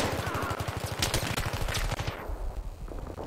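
Gunfire in a Battlefield 3 match, a rapid run of sharp repeated shots close by for about two seconds, then a quieter tail of lingering noise.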